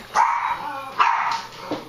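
Dogs indoors at home let out two sharp bursts of barking about a second apart, followed by a softer yip, loud and close with no talk.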